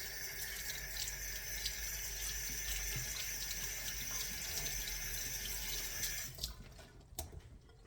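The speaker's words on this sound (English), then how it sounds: "I have to wash my hands for this" Tap water runs steadily into a kitchen sink while hands are washed under it, a close, constant splashing rush that shuts off near the end, leaving a few drips and clatters.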